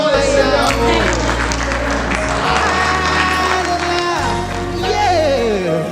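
Congregation applauding and cheering during a church sermon, a sustained wash of clapping and crowd noise over loud music with a steady low bass line, voices mixed in throughout.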